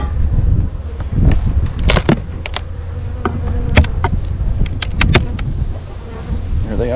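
Honey bees buzz around an agitated hive, a steady insect drone close by with sharp individual bees zipping past the microphone, and bursts of handling noise.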